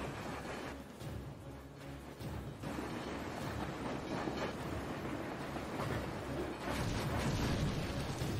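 Train rumbling past in the Ninja Gaiden Sigma video game, a dense, loud, continuous roar and clatter that swells and intensifies toward the end, with no talking.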